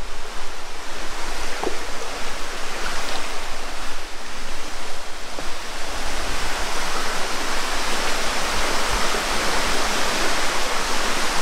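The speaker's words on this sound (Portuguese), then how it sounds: "Mostrando mais uma cachoeira de Minas de Três Marias" A steady, dense roar of a waterfall in Três Marias, Minas Gerais, Brazil, fills the whole stretch, close and constant with no voices.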